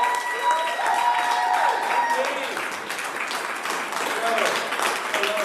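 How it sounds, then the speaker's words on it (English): A studio audience gives a contestant a big welcoming round of applause, a steady wash of clapping with a voice talking over it throughout. "Big round of applause!"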